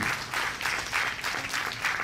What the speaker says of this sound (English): so can we also have a huge round of applause